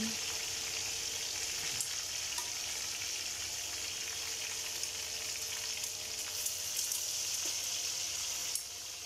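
Chicken fries in a pan with garlic and onion, a steady close hiss of sizzling oil that stays loud and even throughout, with faint stirring scrapes.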